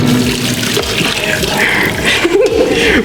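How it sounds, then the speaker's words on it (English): Water pouring steadily as cooked pasta is drained through a sieve, a loud close rush and splash with clatter and a brief voice underneath. "let's just drain the pasta over here"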